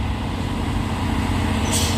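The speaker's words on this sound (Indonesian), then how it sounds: "Ya, ini ada konvoy truk tangki," A convoy of tanker trucks rolls past with a loud, steady engine and road rumble throughout, and a short hiss near the end like an air brake.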